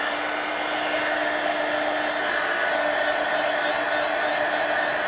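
A hair dryer runs continuously and loudly at close range with a steady whirring hum, drying ink on an art journal page.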